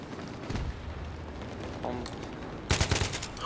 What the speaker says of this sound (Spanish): Les estoy disparando.